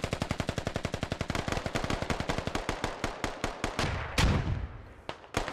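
Rapid automatic gunfire in a squad-based military shooter game, a loud, close burst of evenly spaced shots running several seconds, then a heavier blast and a few scattered single shots.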